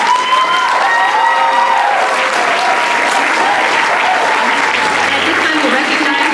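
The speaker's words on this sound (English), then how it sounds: "will you please give these kiddos another round of applause for me?" Loud, dense applause from a school band concert audience for the young 6-12 grade performers, holding steady throughout with a crowd murmur and a few voices threaded beneath the clapping.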